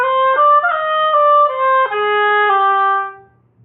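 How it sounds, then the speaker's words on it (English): An oboe plays a short etude phrase, a triplet figure led by a quick grace note, with clear reedy sustained tones stepping between pitches for about three seconds before fading to silence. "So on the oboe, it's going to sound like this."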